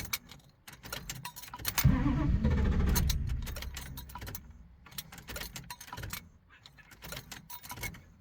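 The starter cranks a 1990 Dodge Ramcharger engine in a loud burst that fades after about a second. Rustling and clunking handling noises surround it.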